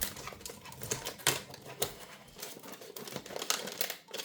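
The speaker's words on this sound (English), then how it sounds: "I just cut the plastic out." Plastic packaging on a Dymo Omega embosser gets cut and pulled away, with close crinkling, snipping and sharp tearing crackles in irregular bursts.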